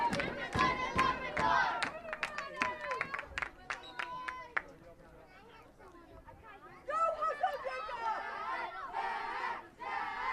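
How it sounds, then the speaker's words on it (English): Fans at a U14 boys' youth soccer championship match cheer after a one-handed catch, with shouting voices and crowd noise rising and falling. A commentator talks over the crowd. "he gets a cheer from the fans"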